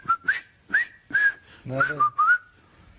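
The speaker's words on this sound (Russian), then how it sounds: "Там кто-то свистел." Someone whistles the melody of "The Bridge on the River Kwai" in short bright phrases with gaps, close and clear, and a single spoken word breaks in.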